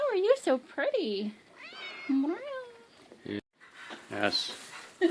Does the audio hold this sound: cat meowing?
yes